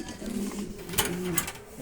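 Pigeons for sale, a pair of white Beauty birds, give low soft coos in a short rolling phrase, close and fairly quiet, with a faint voice in the background.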